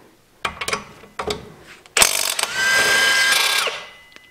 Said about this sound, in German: Dafür nehme ich einen Schlagschrauber und eine 18er Nuss.